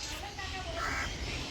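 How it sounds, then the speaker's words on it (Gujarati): A crow caws a few times at Kankaria Lake in Ahmedabad, set against a steady outdoor bed of children playing and distant crowd noise. "તો આ જો કાગડો"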